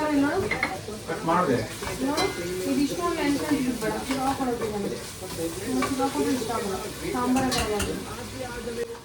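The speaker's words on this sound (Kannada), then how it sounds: "ಮಸಾಲೆ ಏನು ಒಗ್ಗರಣೆಗೆ ಹಾಕ್ತೀವಿ ಅದನ್ನೆಲ್ಲ ರೆಡಿ ಮಾಡಿ ಒಗ್ಗರಣೆಗೆ ಹಾಕಿದ್ದೆ" Oil sizzles steadily in a tempering pan with spices while a utensil stirs and scrapes, and a voice talks over the cooking throughout.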